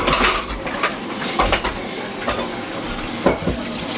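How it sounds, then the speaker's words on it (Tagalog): Cordon bleu fries in a pan with a steady sizzle, close and fairly loud, while utensils scrape and clink against the pan in intermittent stirring strokes. "Nag-cordon bleu prito."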